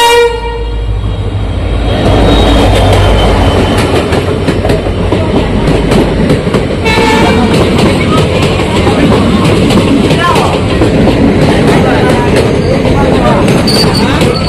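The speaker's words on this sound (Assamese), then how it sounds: "এয়া ট্ৰেইন আহি গ'ল" The Nagaland Express rolls into Golaghat station at night, loud and close, its horn sounding at first before a heavy, continuous rumble and clatter of wheels and wagons, with crowd voices on the platform.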